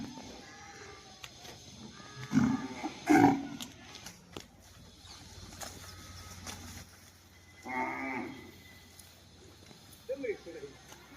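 Cows at a gau seva cow shelter in Palitana, with several loud moos rising over background chatter, the calls bunched early and again later amid people talking.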